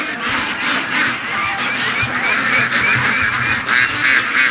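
A flock of ducks quacks and honks continuously nearby, loud overlapping calls filling the morning air without pause.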